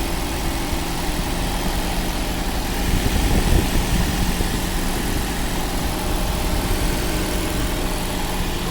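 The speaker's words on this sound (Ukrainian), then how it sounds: "Ось так запустився двигун." A 2021 Toyota Highlander engine idles steadily nearby after starting, a continuous low rumble with a slight rise in the middle, no voices.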